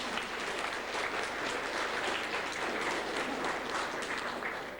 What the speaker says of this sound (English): she deserves also a big round of applause to them both